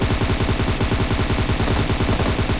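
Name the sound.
gunfire in the video game PUBG Mobile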